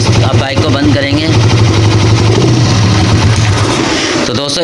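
A Honda CG125 motorcycle engine runs at a steady idle close by, a loud, even mechanical thrum, while someone talks over it.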